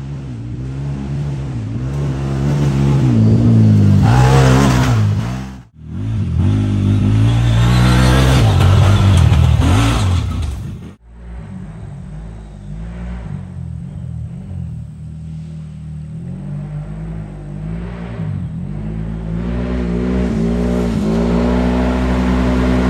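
Cfmoto Uforce 1000 side-by-side engine, heard close and loud, revving hard in long rising surges with two brief drops in between, then a lower, rougher labored drone that climbs again toward the end.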